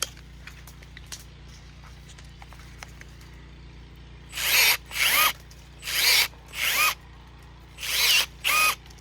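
A Milwaukee M12 cordless pruner cuts through a hard wooden branch about three-quarters of an inch thick, giving five or six loud, short motor bursts in the second half after a quiet stretch of faint handling clicks.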